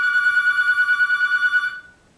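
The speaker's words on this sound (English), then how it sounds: "I have no idea how to stop this phone from ringing." A telephone rings with a steady electronic trill, pulsing rapidly and then cutting off, close and loud with no talk.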